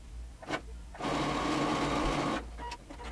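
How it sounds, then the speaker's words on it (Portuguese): A sewing machine stitches a lined cropped top closed at the neckline, one steady burst of about a second and a half, with a few soft handling clicks before and after. "Vou iniciar a costura para fechar o decote"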